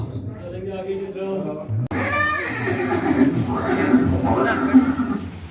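A horse whinnies loudly in several drawn-out neighs, standing for Chetak, the war horse of Maharana Pratap at Haldighati, heard alongside a person speaking.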